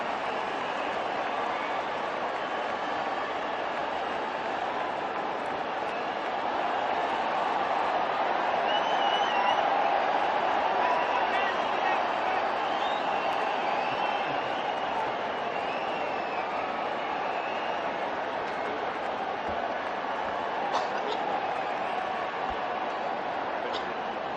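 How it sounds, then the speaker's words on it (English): A cricket crowd at a women's World Cup semifinal claps and cheers in a broad, steady wash of applause, distant and sustained, with a faint commentary voice underneath. "the applause is something to behold"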